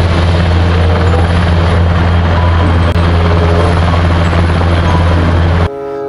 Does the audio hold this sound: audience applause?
no